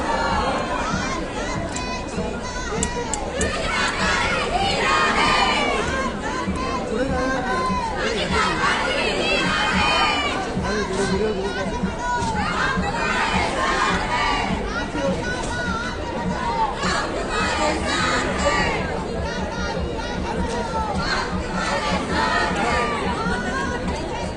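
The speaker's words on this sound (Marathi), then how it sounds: "हा त्यांचा विजयाचा जल्लोष जो आहे तो आपण बघू शकतो बदलापूर शहरामध्ये साजरा करण्यात येतो" A crowd in Badlapur celebrates a BJP election victory with a dense, loud, continuous roar of voices, excited shouting and chatter from many people at once.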